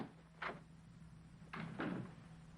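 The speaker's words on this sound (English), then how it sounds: "the door's open." An old door opens in a quiet room in a 1963 suspense drama, with a short creak or latch sound, then a fuller double knock and swing a second later, close and moderately loud over a low steady hum.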